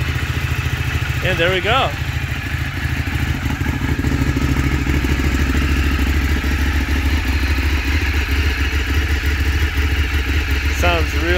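A Ducati Streetfighter track bike engine idles loudly and close up, a steady throbbing rumble that holds throughout, while someone speaks briefly over it near the start.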